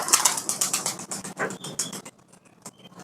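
High flyer pigeons released outdoors give a burst of rapid wing flaps and fluttering, loud at first and then thinning out to faint, scattered sounds.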